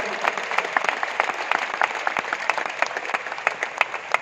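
An audience at a Yoga Day program in Indira Gandhi Stadium, Delhi, breaks into loud, sustained applause, a dense crackle of many hands clapping continuously throughout.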